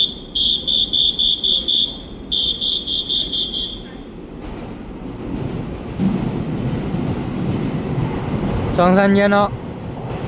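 A twelve-car EMU3000 intercity express train departs Shulin station in Taiwan, its rumble building steadily after a repeated electronic warning chime, with people talking and a brief horn-like tone near the end.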